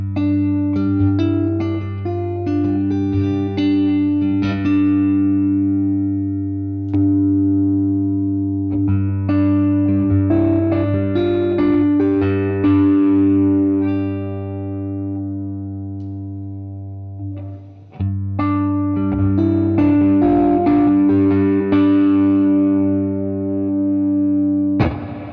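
Electric guitar played through an amp, first clean and then with Archer, Starlight and Golden pedals kicked in, a sustained chordal and melodic passage, close and full, brief dip midway, no talking.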